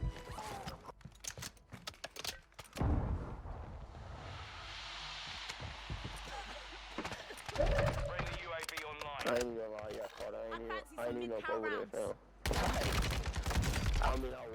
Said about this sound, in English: He hears the directional gunfire and peeks.